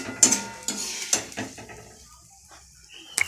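Flattened rice (chira) being fried and stirred in a pan for a crunchy snack, with sharp metallic scrapes and clinks of the spatula against the pan in a few close bursts, then quieter sizzling, with a voice speaking briefly.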